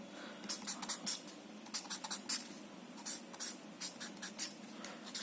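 A pen scratches on paper while a string-insulator diagram is drawn. Faint, close strokes come in short, uneven bursts with brief pauses between lines.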